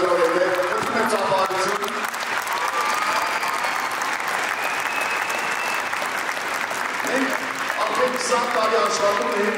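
Sustained applause from a large audience at a dance academy's anniversary concert in a theatre, steady dense clapping throughout with faint voices mixed in.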